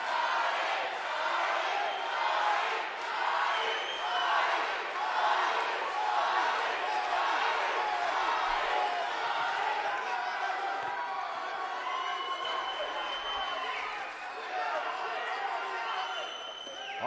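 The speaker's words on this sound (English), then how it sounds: "You can hear the crowd cheering." A crowd roars steadily through a women's boxing bout, a dense and continuous wash of cheering from an arena audience, with a commentator talking over it.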